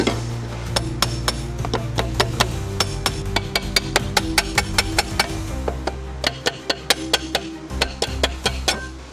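Metal hammer blows strike the crash-damaged chassis leg of a BMW X5 M50i in a workshop: a long series of sharp, close, loud impacts, sometimes in quick bursts and sometimes spaced out, over a low steady hum.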